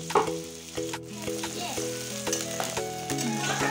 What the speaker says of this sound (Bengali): তারপর তেল দিয়ে কড়াইতে ফেলবো।